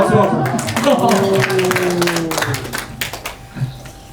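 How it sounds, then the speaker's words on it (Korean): A church congregation claps briefly amid scattered voices and chatter, the hand claps loose and uneven rather than a sustained ovation. "박수."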